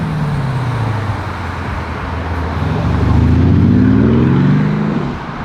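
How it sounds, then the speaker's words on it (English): A car passes on a road in traffic, its engine drone swelling as it approaches and rising to a loud peak before easing away, with no voices over it. "I can hear that car now"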